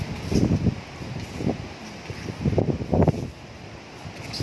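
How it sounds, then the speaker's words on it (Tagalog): Strong wind buffets the microphone in heavy, irregular low gusts, rumbling loudly and then easing before the next blast. "Lakas ng hangin."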